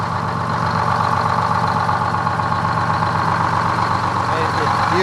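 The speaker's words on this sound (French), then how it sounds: "Il ronronne ce bus." An old Greyhound bus engine with a fully mechanical drivetrain idles in a steady, close, loud rumble that holds level throughout.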